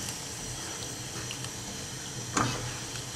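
Sausage pasta sauce with whole sausages stirred together in a pan: a steady wet, bubbling hiss with soft squelches and one brief clink near the end.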